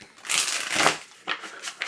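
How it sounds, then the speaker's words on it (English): Tarot cards riffled and shuffled by hand in a few quick bursts, crisp papery flutters with short pauses between, close and alone. "that was like a satisfying shuffle"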